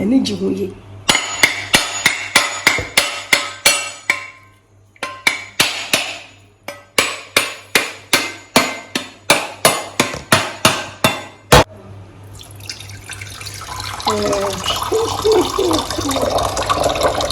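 Hard coconuts struck repeatedly with a hammer-like blow, a fast run of sharp close cracks in bursts, then coconut water pouring and splashing steadily into a bowl at the end.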